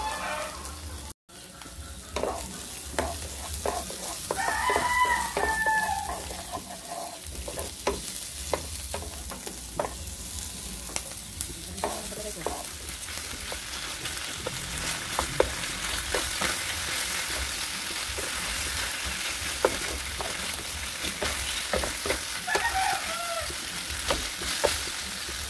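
Chicken sizzles in a pan while being stirred, a constant bright frying hiss broken by frequent sharp scrapes and clicks of the utensil against the pan, close and moderately quiet.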